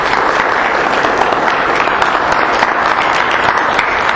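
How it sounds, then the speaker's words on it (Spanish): A church congregation gives loud, sustained applause during a sermon, a dense and even roar of many hands clapping that continues steadily throughout. "Denle un aplauso a la palabra de Dios"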